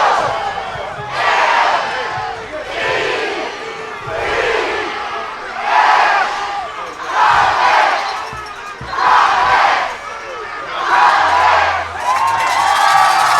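A football crowd at a high school conference championship game cheers in repeated rhythmic surges, chanting and shouting in waves roughly every two seconds, loud and full.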